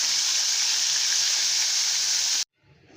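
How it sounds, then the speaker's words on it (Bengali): Amudi fish frying in hot oil gives a loud, steady close hiss that runs evenly before cutting off abruptly near the end, leaving quiet room sound. "মাছগুলো দিয়ে আমি ভেজে নেব।"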